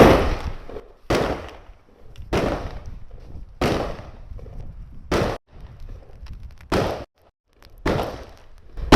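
Benelli Raffaello shotgun fitted with a choke, fired at about 20 metres outdoors: six sharp, loud blasts spaced roughly a second apart, each with a short decaying tail.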